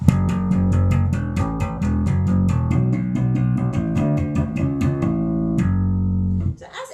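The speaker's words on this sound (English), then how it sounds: "I play some open strings in between the actual notes that I'm fretting with my left hand" A quick electric bass line from a song weaves open strings between fretted notes, giving a rapid, even stream of plucked low tones before a held note decays into silence.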